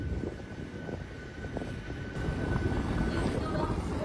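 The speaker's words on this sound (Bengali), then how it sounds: "বাঁদিকে ক্রস করছে ইন্দোর হাওড়া শিপ্রা এক্সপ্রেস" Indore–Howrah Shipra Express passing close on the left of a moving train near Liluah, a steady rumbling roar that swells louder toward the end, with no break throughout.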